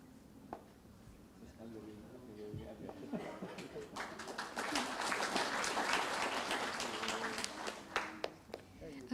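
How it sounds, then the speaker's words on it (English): Audience applause for conference speakers at a public policy forum, building gradually from scattered claps into a moderate, sustained round with some voices over it. "let's give a round of applause again to our wonderful speakers"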